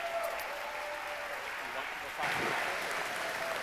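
Town hall audience applauding an advocate at a single-payer healthcare meeting, a moderate, fairly distant clapping that thickens partway through, with some faint voices underneath.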